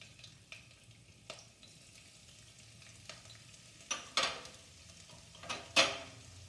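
Julienned ginger fries in a pan for a tuna roast, a low, soft sizzle under repeated sharp clinks and scrapes of a utensil stirring, growing busier toward the end.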